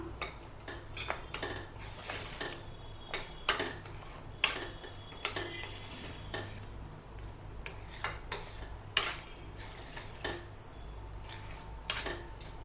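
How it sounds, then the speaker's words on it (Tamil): Wheat flour halwa stirred in a pan on low flame, a spoon scraping and clinking against the metal in steady, repeated strokes, close and clear with no talk. "இந்த மாதிரி நம்ம கிண்டி விடணும்"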